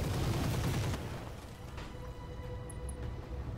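Weapons fire from mechs in the BattleTech mod Roguetech, a dense burst of booming shots and blasts at the start that quickly fades into a low rumbling tail with faint electronic tones.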